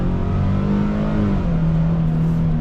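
A 2025 Nissan Frontier SL crew cab 4x4 V6 pulling away from a standstill, its engine note climbing steadily in pitch as it revs under load, loud and close with a continuous rising drone and no talking.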